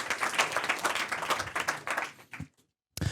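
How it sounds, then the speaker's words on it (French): Audience applause after a pitch at a sextech event, brisk crowd clapping for over two seconds that quickly dies away into silence, then a brief sound at the very end. "Merci. On l'applaudit, merci."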